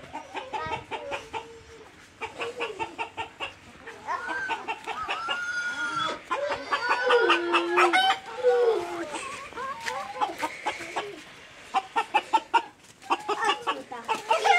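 Chickens cluck and a rooster crows close by, with people talking over much of the farmyard noise.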